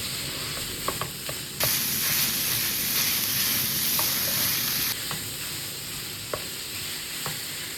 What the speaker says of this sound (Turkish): kıymamızı da tavamıza alıyoruz ve soğanlarla birlikte kavurmaya devam ediyoruz